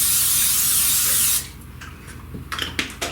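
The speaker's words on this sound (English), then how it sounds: "I'm going to spray the inside of it with a little non-stick spray." Can of non-stick cooking spray hissing into an air fryer basket, one loud continuous burst of about a second and a half, followed by quiet light clicks and handling noises.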